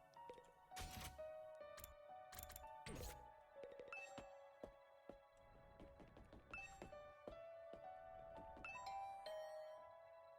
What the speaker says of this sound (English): I rang the doorbell, and I could hear the bell ring on the other side of the door